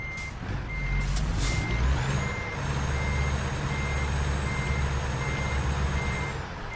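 A truck in American Truck Simulator backing up, its reversing alarm beeping in a steady even rhythm over a low idling engine rumble, with a brief air-brake hiss near the start.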